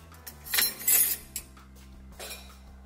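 Metal cutlery and dishes clink and clatter in a few quick bursts as they are loaded into a dishwasher rack, with a faint background hum between.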